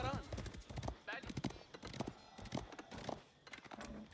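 Cavalry horse hooves in an Age of Empires real-time strategy game, a quick clip-clop of many hoofbeats with an occasional whinny, mixed with other game sounds and commentary speech.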